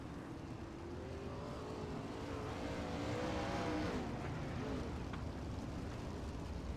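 410 sprint cars run laps on a dirt oval during a Thursday night race, a steady roaring engine drone with wavering pitch that swells and fades as the pack passes at a distance, with no talk.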